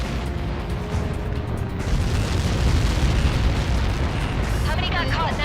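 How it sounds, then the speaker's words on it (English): Missile impact explosion in the video game Ace Combat 7, a heavy sustained booming roar and rumble filling the whole stretch, loud and dense, with faint radio chatter mixed in. "How many got caught in that explosion?"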